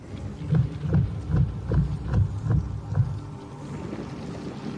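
Rhythmic low pounding from a thumper device in the desert in the film Dune (2021), about seven deep, muffled thuds at a steady pace that fade into a quieter hum.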